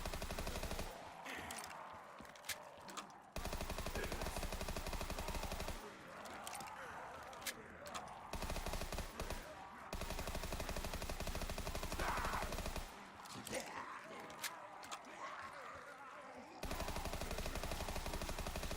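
Gunfire from a Mark II and an MG rattles through a Black Ops 3 custom zombies map: repeated bursts of rapid automatic fire, loud and close, separated by short pauses, with occasional voices between the bursts.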